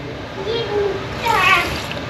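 Water pours briefly into a pot of Carolina reaper hot sauce mixed with red wine, a short liquid splash and trickle heard close up, with a voice talking over it.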